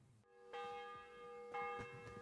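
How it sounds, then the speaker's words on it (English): A clock bell chimes in the game Kingdom Come: Deliverance 2, two resonant ringing strikes about a second apart with long sustained tones, fairly faint and alone. "Wait for the clock to stop"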